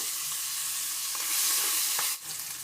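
Prawns fry in hot oil in a pan for a Bengali pumpkin dish, giving a continuous loud crackling sizzle with occasional stirring scrapes and a brief dip near the end.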